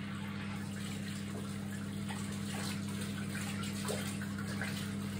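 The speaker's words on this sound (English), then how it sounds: "Then, when sparkling clean, rinse your hands under the water." Water runs steadily from a tap as hands are rinsed clean after soaping, a soft, even, fairly quiet flow with no talking over it.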